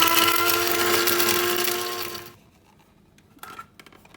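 A mixer grinder whirs loudly at high speed for about two seconds, grinding homemade sambrani incense to powder, then cuts off, leaving quiet with a few faint rattles and clinks.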